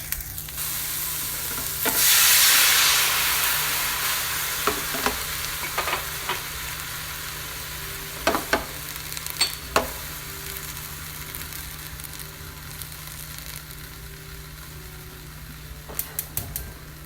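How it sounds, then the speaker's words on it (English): Shrimp sizzle in a pan and settle into a steady hiss, with a loud burst early as white wine and herbs hit the hot surface, then scattered clinks of a utensil against the pan. "I'm going to deglaze the pan with the wine and the herbs"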